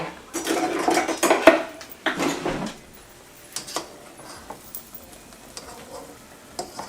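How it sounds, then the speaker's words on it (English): A utensil stirring broccoli in a pan, with clattering scrapes against the metal over a light sizzle, busy at first and then sparser knocks. "I just want to check on the broccoli. I feel like it's still too soft, but I'm gonna stir it up."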